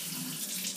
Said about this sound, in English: I'll cut it with some water